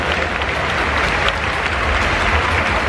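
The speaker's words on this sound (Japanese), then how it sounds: "今一度大きな拍手をお送りください" Dense, steady applause from a large stadium crowd at a baseball All-Star Game, sustained and loud throughout with no talk over it.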